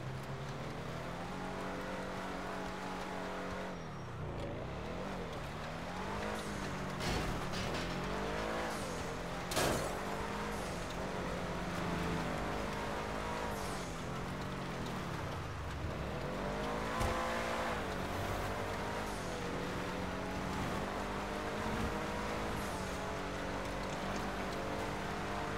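Car engine in Grand Theft Auto V, droning and revving with shifting pitch over continuous steady driving noise, with occasional tire squeal, sustained and fairly loud throughout.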